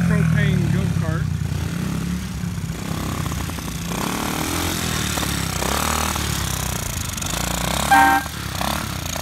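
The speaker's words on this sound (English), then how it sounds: "It's got an air horn on it." A small propane go-kart engine hums steadily while its air horn gives brief honks near the start and again near the end, with people talking nearby.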